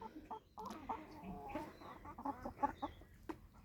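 Chickens on a small farm cluck and murmur in short, scattered calls, faint and close, with no talk over them.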